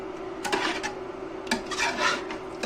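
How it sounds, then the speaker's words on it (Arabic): A spoon scraping and stirring mango pickle (torshi amba) mixture in a pot, with a few quick rasping strokes close by and no voices. "واظل اخلط فيها على مود شنو ما تتكتل من جوا"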